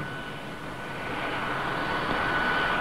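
RAF training aircraft engine building power for a first solo takeoff, a broad steady roar that swells gradually throughout with a faint high whine running beneath, no talk.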